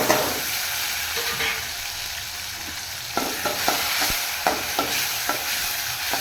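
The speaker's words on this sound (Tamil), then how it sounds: "இந்த மசாலா கொஞ்சம் வதங்கட்டும்" Masala of onion and tomato sautéing in a pan, a steady close hiss of frying with a few sharp scraping stirs toward the end, no voices.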